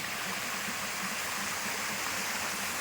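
Steady rushing water pours continuously, a full broadband roar of a waterfall heard up close with no voices.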